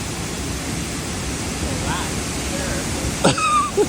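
Niangziguan waterfall in Shanxi, a steady broadband rush of falling water that fills the scene at a moderate distance, with brief voices near the end.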